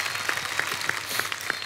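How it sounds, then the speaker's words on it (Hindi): A studio audience on a TV comedy talk show applauds guests Bindu, Ranjeet and Gulshan Grover as they arrive. The clapping is dense and continuous throughout, with faint regular accents and no talking. "एक बार जोरदार तालियां बिंदु जी के लिए, रंजीत साहब के लिए, गुलशन साहब के लिए।"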